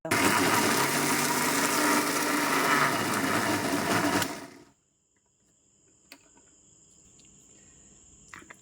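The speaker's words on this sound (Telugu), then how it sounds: "ఇప్పుడు మిక్సీ పట్టేద్దాము" A mixer grinder whirs loudly, grinding tamarind leaves with peanuts and a little water, running steady for about four seconds before cutting off abruptly into near silence with a faint high tone.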